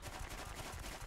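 Gunfire in the X-COM Long War video game: a quick cluster of sharp rattling shots over roughly a second, dense and fairly loud.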